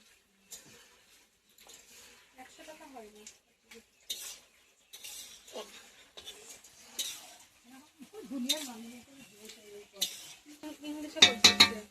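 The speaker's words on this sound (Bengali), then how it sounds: "মাঝে মধ্যে একটু নেড়ে দিচ্ছি যাতে তলায় লেগে না যায়" Payesh, a rice pudding, stirred now and then in a pot: sparse spoon clinks and scrapes against the metal, growing busier toward the end, with brief quiet voices in the background.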